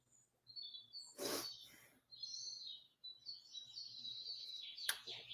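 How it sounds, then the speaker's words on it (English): Several birds sing and chirp outdoors in a neighborhood setting. Their high, bright trills and tweets overlap almost continuously, and a couple of sharp louder calls stand out. "So many birds"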